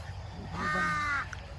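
A crow caws once in a drawn-out, harsh call while cattle are being herded outdoors, the call standing out moderately loud over low background rumble.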